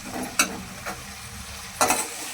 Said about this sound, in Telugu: నిమ్మరసం వేసుకొని మిక్సింగ్ చేయాలి